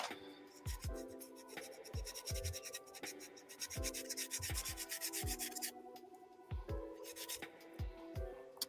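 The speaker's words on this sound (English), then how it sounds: "Get these little spongy sanding sticks from Hobby Lobby" Spongy hobby sanding stick rubbing back and forth against a small model-building piece, close and steady, with repeated scratchy strokes and light knocks in an even rhythm; no talking.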